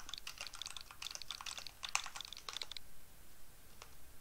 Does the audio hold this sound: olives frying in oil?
no